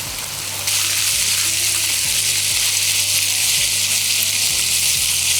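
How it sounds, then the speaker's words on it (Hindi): Okra frying in a pan with salt and spices, with a loud, dense sizzle that swells up suddenly after a quieter start and then holds steady, while faint low clicks and thumps sound underneath. "भिंडीअ खे थोड़ो फ्राई कंदा हलंदासीं"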